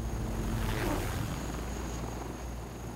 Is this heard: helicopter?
yes